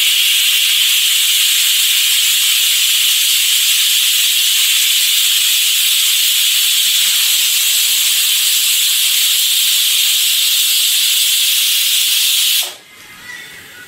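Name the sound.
pressure cooker whistling while cooking chickpeas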